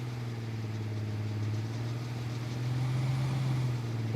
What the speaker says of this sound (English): because I can tell my engine's unhappy.